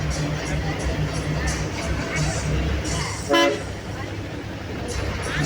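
A bus horn sounds once, a short loud blast midway through steady road and engine noise during a ride from Pondicherry to Villupuram, with faint crowd murmur around it.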